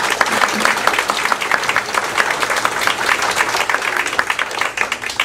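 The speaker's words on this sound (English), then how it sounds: "let's open with a round of applause for our panelists and the task force members" Dense, sustained applause from a district council forum audience, many hands clapping steadily and loudly throughout with a few crowd voices under it.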